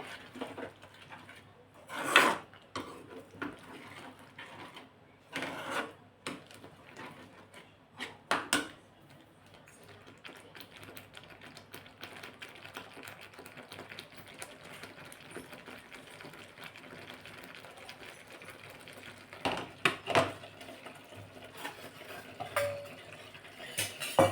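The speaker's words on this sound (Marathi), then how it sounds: "शिजवून घेऊ परतून घेऊ या तेलामध्ये" Palak paneer gravy being sautéed in oil in a pan, mostly heard as intermittent clinks and scrapes of a spoon stirring against the metal, with a faint low background and occasional sharper knocks.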